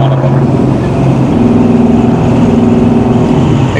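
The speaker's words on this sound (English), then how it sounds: "Exhaust has a good sound." Exhaust of a 1969 Chevrolet C10 short-bed pickup while cruising at about 40 mph, heard from inside as a loud, steady low drone with slight rises and dips in pitch and no talk over it.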